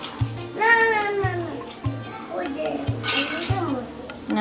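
A metal spoon clinks against kitchen dishes, a few short sharp taps at a steady pace. A voice babbles over the taps, and the pot of simmering lentils with coriander leaves sits in the background.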